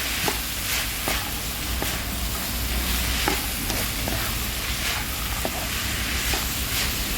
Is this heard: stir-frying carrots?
yes